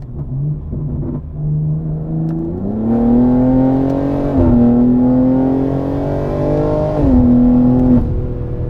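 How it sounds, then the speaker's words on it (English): A BMW G80 M3 Competition tuned to about 700 hp pulling hard in fourth gear from around 3,000 rpm, loud droning exhaust rising in pitch through two upshift-like dips, heard continuously from inside without speech. "Let's try to get like a third, fourth gear pull."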